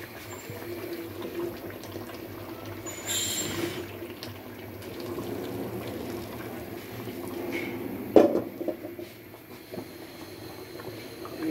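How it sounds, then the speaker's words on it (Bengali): Broth is poured into a simmering pot of chicken and potato curry, a steady liquid stream with bubbling, a brief splashing surge early on and a sharp clank near the end. "এখন ঝোল দিয়ে দিচ্ছি।"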